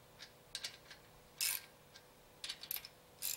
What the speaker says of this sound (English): and then we'll get the torque wrench out